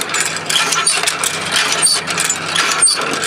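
Old hand water pump being worked outdoors, rhythmic metallic squeaks and clanks repeating with each stroke of the handle, close and fairly loud.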